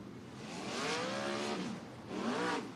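Race car engines fire up and rev at Skagit Speedway, a dirt oval in Alger, Washington, in two loud rising surges with harmonic engine tones, the first longer than the second, close and filling the clip.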